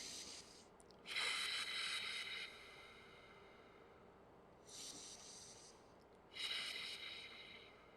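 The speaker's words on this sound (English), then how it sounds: "take a few deep breaths" Slow deep breaths drawn in and let out during a guided relaxation, each a soft airy rush close to the mic, alternating in long even cycles over a quiet background with no talking.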